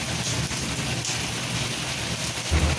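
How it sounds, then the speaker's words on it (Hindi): Steady, dense roar of heavy rain pouring down in Katra near Trikuta mountain on the Vaishno Devi route, a continuous broadband wash with a faint low rumble near the end and no voices. "कटरा के अंदर एकदम बिल्कुल कह सकते हैं ज़बरदस्त बारिश आ गई है।"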